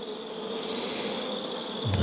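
Honeybees buzz loudly and continuously around an open hive during a spring brood-frame inspection on a cool day, a dense close-up drone with a brief thump at the end.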